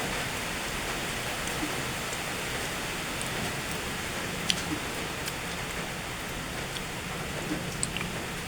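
Steady rain falls outdoors as a faint, even hiss of broadband noise, with a few soft drips and taps standing out here and there and no talking.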